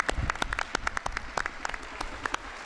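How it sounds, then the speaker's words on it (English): Applause at a school board meeting for an 11th-grade student, many hands clapping in a moderate, scattered patter that sounds somewhat distant in a large room. "Another round of applause, please, for Mr."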